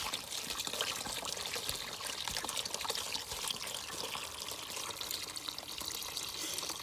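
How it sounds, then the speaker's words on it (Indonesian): Oil and water pour out of an insect trap set in a soybean field, a steady splashing stream running continuously at close range with no voices. "dihabiskan ya minyaknya, airnya juga dihabiskan"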